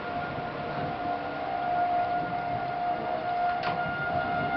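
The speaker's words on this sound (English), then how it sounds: "the tornado sirens are going off" Tornado sirens wail steadily after a hailstorm, a sustained tone heard at a distance over outdoor background noise, without talk.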